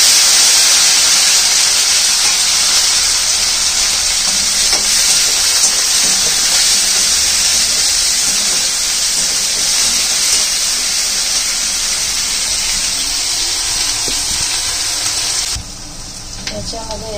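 Onion and garlic with fennel seeds, nigella, fenugreek, cumin and mustard seeds fry in hot oil, giving a loud, continuous sizzling hiss that ends abruptly near the close, with a voice talking.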